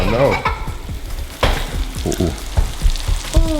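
Loud, steady sizzling and bubbling of plant-based chicken pieces deep frying in hot oil in a fryer, close up, with occasional pops and crackles.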